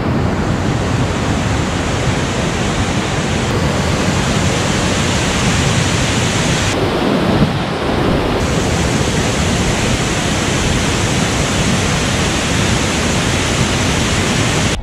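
A waterfall in Konni, Pathanamthitta, roars in a steady, loud, unbroken wash of rushing water with no voices.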